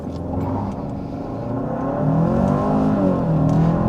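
A 2024 Hyundai Santa Fe SE pulls away hard from a standstill with a brief wheel spin, its engine note building steadily and growing louder partway through, heard from inside the car with no talking.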